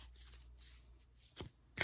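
Tarot cards being shuffled in a few quick riffling bursts, close and crisp, with short pauses between them and no talking.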